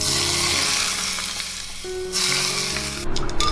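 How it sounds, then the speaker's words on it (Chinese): Hot oil poured over minced garlic sauce seasoned with soy sauce, oyster sauce and salt, a loud steady close sizzle that fades and then flares again near the end. "再来泼上热油"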